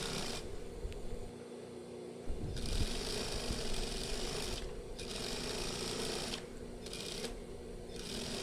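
A sewing machine stitches along stiff interfacing fabric on a lined batik shirt, giving a quiet, continuous mechanical whirring chatter with brief pauses and no talking.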